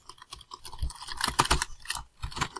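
Computer keyboard keys hammered rapidly while playing a Roblox FNF rhythm game, a fast irregular burst of close, loud plastic clicks and clacks with no talking.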